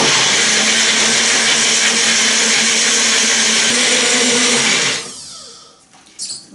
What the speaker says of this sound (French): là je vais mixer de manière à obtenir eh bien, une crème la plus lisse possible